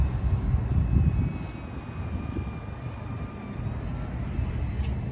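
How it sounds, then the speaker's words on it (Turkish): A steady low engine drone from a camera drone overhead throughout, a continuous mechanical hum with a faint high whine, no voices, in a snowy forest in Istanbul. "Drone mu? Drone uçuruyor."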